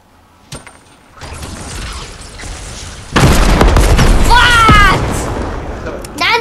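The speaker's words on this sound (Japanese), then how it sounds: "お父さん、まずグレネードで投げるって" A grenade blast in the zombie horror creative mode of Fortnite, a broad booming burst that jumps in loudness partway through and rumbles on with game effects while family members talk over it.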